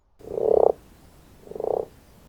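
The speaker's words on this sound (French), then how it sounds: "On va voir les grenouilles rousses" Common frogs (grenouilles rousses) croaking outdoors: two separate low, purring, pulsed croaks, each under a second long, with a short pause between them, fairly close and clear against a quiet background.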